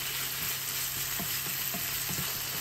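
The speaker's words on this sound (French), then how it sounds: "on va faire revenir jusqu'à ce que toute l'eau soit évaporée" Minced meat with spices frying in a pan while its water cooks off, a steady close hiss of sizzling broken by soft, regular stirring scrapes, with no voices.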